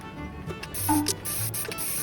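A spray paint can sprays a concrete-effect finish onto a cheap junk Playtech electric guitar body, giving several short, close hissing bursts in quick succession.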